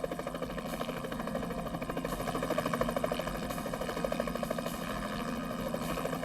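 A helicopter fitted with an infrared search system flies overhead, its rotor beating in a steady, dense thrum with a droning engine underneath, loud and continuous with no voices.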